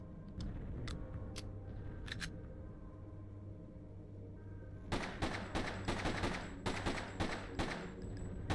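Pistol fire in a shooter video game, a few sharp scattered shots at first, then a denser burst of repeated cracks in quick irregular succession over a low steady background hum.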